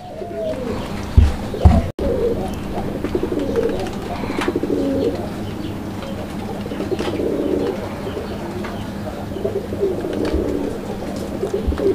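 Madrasi and Rajgolla pigeons coo in low throaty calls, repeated and overlapping, close and fairly loud, with a few wing flaps and thumps near the start and no speech.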